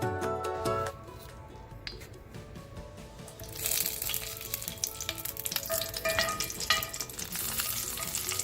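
An onion mixture sautéing in a pan for ragi koozh, a crackling sizzle with scraping stirs, broken at first and then fuller and louder in the latter half, with music in the background.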